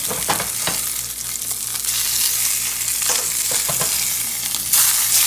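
Tuna steaks sear in a hot pan with a loud, steady, close sizzle and crackle that runs throughout, with no talking.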